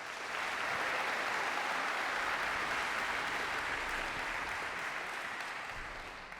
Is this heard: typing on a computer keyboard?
no